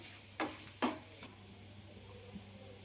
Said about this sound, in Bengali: আলু কুচিটা আমি এখানে দিয়ে দিলাম, দিয়ে আবারও ভালো করে একবার নাড়াচাড়া করে নেব।